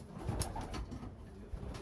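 Pigeons in a racing pigeon loft give soft, low cooing calls amid general bird activity, steady and moderately close throughout.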